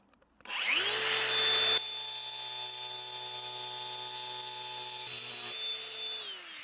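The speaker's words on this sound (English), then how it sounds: "So, porcelain blade, spin it up, gently cut, just like this." A power cutter fitted with a porcelain blade spins up and slices through porcelain bathroom floor tile, giving a loud steady whine with a high tonal ring that softens as the blade bites, then winds down near the end.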